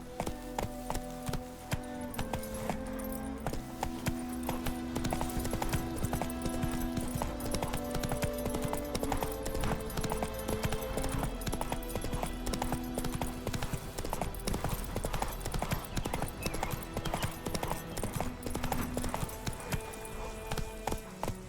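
Roach, Geralt's horse in The Witcher 3, galloping at a fast, even rhythm through White Orchard in the video game, the hooves loud and close over a constant musical and ambient game backdrop.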